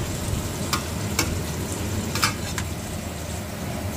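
Salmon head sinigang with miso being stirred in a pot, a steady low simmering sizzle with a few soft scraping clinks of the utensil against the pot, no talking.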